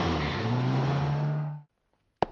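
A car engine runs loudly and steadily, rising slightly, then cuts off abruptly into silence, followed by a single sharp knock.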